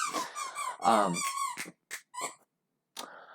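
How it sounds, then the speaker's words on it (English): A dog's squeaky toy squeaks in a run of sharp, high rubbery squeals, several quick squeezes close up and fairly loud, separated by short gaps with one last squeak after a pause. "Kind of like that squeaky toy that my dog's got."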